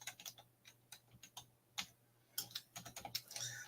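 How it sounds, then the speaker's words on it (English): Typing on a computer keyboard, irregular bursts of light clicking keystrokes, close and fairly quiet, with a short pause before a quicker flurry of taps. "Sorry, I'm typing at the same time."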